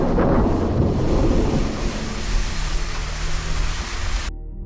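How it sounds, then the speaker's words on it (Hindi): Rain and thunder on a stormy night, a dense steady wash of rain with deep rolling thunder rumble loudest at the start, close and continuous, cutting off abruptly near the end, no voices. "बारिश की रात थी"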